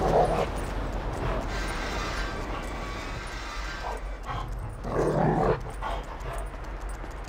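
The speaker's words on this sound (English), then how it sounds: "Sniff him out, Chop Chop." Dog barks and whimpers from the dog character in Grand Theft Auto V come in short bursts over a steady game soundtrack with background noise, the barking loudest near the start and again midway.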